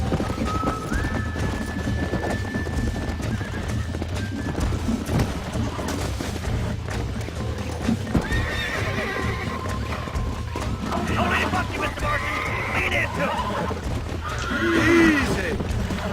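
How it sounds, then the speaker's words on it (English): In the Red Dead Redemption video game, a horse neighs and its hooves clip-clop steadily, with faint distant gunfire and people talking over the scene. "Un caballo."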